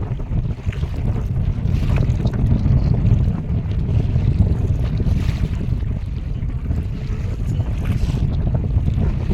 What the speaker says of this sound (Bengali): প্রচণ্ড তুফান তুফানের মধ্যে দিয়ে কিন্তু বোর্ডটা চলে আসছে এদিকে